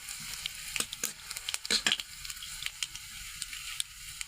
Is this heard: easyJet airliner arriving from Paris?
no